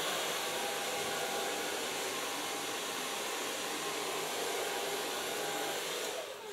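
A hair dryer blows steadily up close, a continuous loud whooshing roar lasting throughout while drying a bob haircut.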